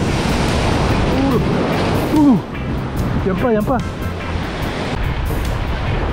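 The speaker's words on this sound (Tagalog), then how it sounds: "malaking alon yan" Big ocean waves crash along a Palawan shore at a fishing spot, a steady loud roar of surf and wind noise filling the whole stretch, with someone speaking briefly over it.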